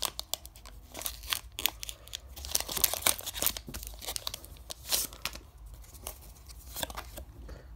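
Pokemon card packs are torn open up close. Crinkly foil wrappers rip and crumple in repeated bursts, with sharp tearing spikes between softer rustles.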